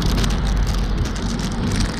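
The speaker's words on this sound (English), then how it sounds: "really stormy now" Heavy rain pours steadily, a dense hiss of drops drumming on a surface, close and loud with no pauses.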